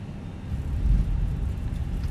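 Thrust reversers on an airliner in a flight simulator game, heard as a steady, loud low roar right after touchdown, swelling slightly and holding across the whole stretch with no voices.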